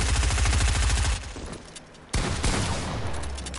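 Rapid automatic SMG fire in a shooting video game, a dense loud burst that cuts off briefly, then a second sustained burst resumes close and continuous, with no talk over it.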